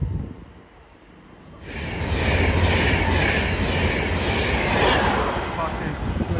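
A Class 390 electric express train on the West Coast Main Line runs through Watford Junction station from London Euston toward Manchester Piccadilly. Its loud, steady rumble and rail roar starts abruptly and holds close and continuous.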